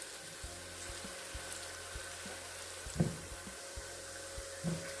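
Ground ogbono sizzling quietly in oil with onions in a pot for okra and ogbono soup, a soft faint frying hiss with a few light knocks and stirring taps, and no talking.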